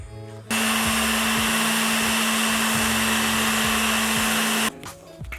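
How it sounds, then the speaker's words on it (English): Rotary sander working over a car body before primer, a loud steady high whine that starts abruptly, runs for about four seconds and cuts off, heard close with no talk. "Rotary sander. Right there. Go all over it until it's matte"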